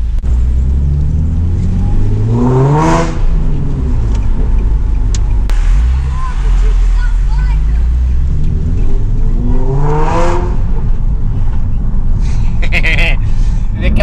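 A car with a newly fitted exhaust revs hard twice, each rev rising and falling with a deep raspy roar over a steady idle rumble in town, with people talking nearby.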